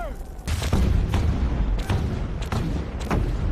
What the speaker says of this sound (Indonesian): dentuman meriam yang menyerang bentengnya